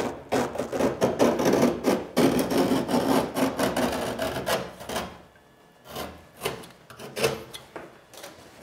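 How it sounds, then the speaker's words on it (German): Utility knife scoring an edge into drywall butted against wood for a bathroom niche, giving a close, repeated scraping and rasping of blade on board in uneven strokes, fading to sparser cuts near the end. "Und jetzt wird einfach hier mit dem Messer eine Kante reingeschnitten."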